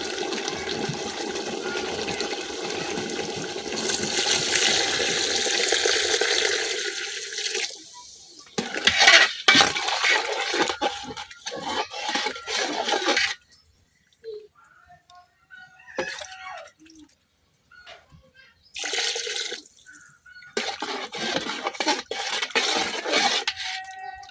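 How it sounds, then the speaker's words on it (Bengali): Water is poured into a large pot of braised chicken and new potatoes, giving a rushing, splashing gush for several seconds, then broken clinks and scrapes of utensils against the pot with short quiet gaps between. "এখন আমি দিয়ে দেব পরিমাণ মতো জল।"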